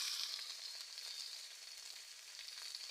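Cut potato pieces frying in hot oil in a village kitchen, a soft steady sizzle with faint crackles running continuously, with no one talking.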